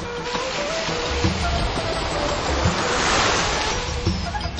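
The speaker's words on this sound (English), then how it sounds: "The beach is famous for its white, soft sands and calm," Gentle waves wash onto a beach with white, soft sand and calm, clear water, a steady close hiss of surf with soft swells and no voices.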